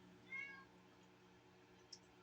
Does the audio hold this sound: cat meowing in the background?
yes